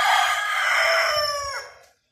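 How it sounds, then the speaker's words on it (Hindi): A rooster crows once, loud and close, in a backyard poultry setup with hens roaming nearby, followed by a brief low cluck at the end. "ये सारी फिर रही हैं मुर्गियाँ, ये सारी आपको नज़र आ रही होंगी।"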